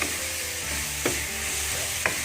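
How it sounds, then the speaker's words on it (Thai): Pork belly stir-fried with shrimp paste over medium heat in a pan, a steady close sizzle with two sharp scrapes of the spatula about a second apart. "ตามด้วยสามชั้นนะฮะ ผัดให้เข้ากันก่อนนะครับ"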